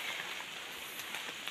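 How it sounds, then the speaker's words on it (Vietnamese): Rain falls in a forest in the Central Highlands during the flood season as a faint, steady hiss of pattering drops, distant and continuous with no voices. "Mọi người có thể nghe thấy tiếng mưa tí ta tí tách đấy"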